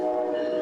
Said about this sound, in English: The Amtrak train to Chicago stops here 3 times a day.